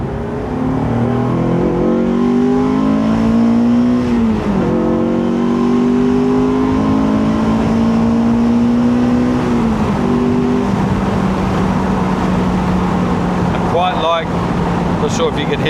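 A Honda S2000 sports car driving on a Sunday run, its engine droning steadily and rising in pitch through the gears, with a brief shift dip partway through and a dense cabin rumble underneath.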